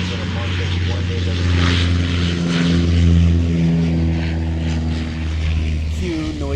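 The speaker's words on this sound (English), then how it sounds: "Cue noisy airplane." Loud propeller airplane droning steadily overhead at a US Airways-connected recording spot, rising and falling slightly in level while people talk beneath it.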